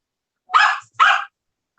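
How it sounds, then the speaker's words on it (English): A small dog yaps twice in quick succession, two sharp, fairly loud barks close by with a brief gap between them and silence around. "if you don't want to listen to a yapping dog"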